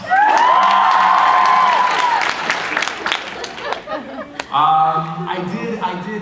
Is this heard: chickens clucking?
no